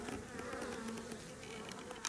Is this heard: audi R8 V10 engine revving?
no